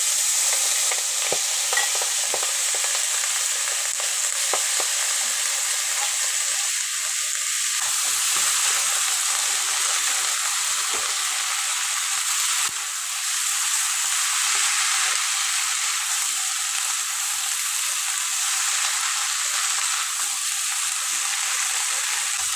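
Malabar spinach seeds and chopped leaves fry in a pan with dried fish, producing a loud, steady sizzle over more than twenty seconds, with occasional scraping stirs and no talking.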